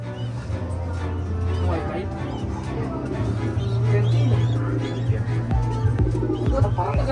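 Pigeon-like bird cooing in repeated low calls amid a hobbyist's bird collection, with people talking over it and a steady hum underneath.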